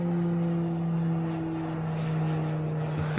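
A steady propeller-like drone of an airplane passing overhead, fairly loud and even, with a low humming tone and no talking.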